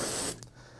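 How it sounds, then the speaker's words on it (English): A short burst of aerosol spray hisses loudly onto the jaws of a Rothenberger Romax press tool and cuts off after about a third of a second, leaving quiet room tone. "grab our spray, give it a good spray down"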